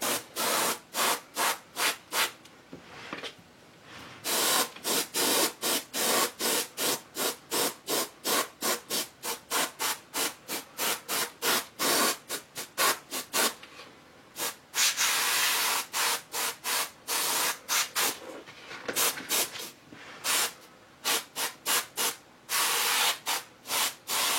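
Dark purple paint sprayed in bursts onto a figure, giving a long series of close, hissing spray pulses with short gaps, some quick and rhythmic, others held longer.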